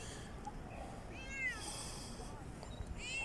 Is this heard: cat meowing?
yes